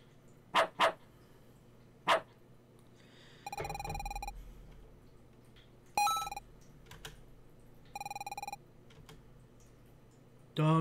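Short, sharp barks from a dog in the RPG Crescent Eve, a quick pair and then a single bark, interspersed with electronic ringing game tones against a quiet background.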